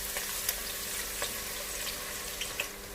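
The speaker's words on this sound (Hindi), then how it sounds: "तेल गरम हो चुका है, प्याज डालेंगे।" Soft, steady sizzling of onions frying in hot oil, a quiet crackle with occasional small pops.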